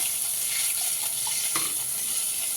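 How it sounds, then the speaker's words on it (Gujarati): Tempering sizzles steadily in a pan as buttermilk is poured in for a Gujarati buttermilk-based curry, a constant bright hiss with a soft stirring scrape partway through, close and continuous with no talk. "આપણે આને છાશથી વઘાર કરશું"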